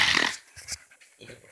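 A Minecraft Pocket Edition dog pants in short breathy huffs and snorts, close and fairly loud, in a brief burst with quiet gaps.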